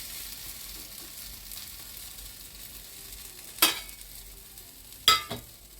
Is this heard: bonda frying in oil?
yes